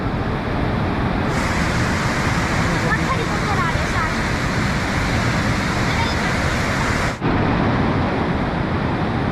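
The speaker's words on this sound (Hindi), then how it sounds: "पानी ऐसा खतरनाक आ रहा है" Dangerous floodwater in a Tibetan colony in Kullu surging past in a loud, continuous roar, close and unbroken, with a brief dip toward the end.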